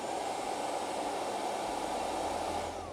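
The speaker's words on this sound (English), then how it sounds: "Then you have a vacuum cleaner." The built-in vacuum cleaner inside a 2025 Toyota Sienna Platinum minivan runs as a steady, close, rushing whir with a constant airflow hiss and no pauses, heard alone.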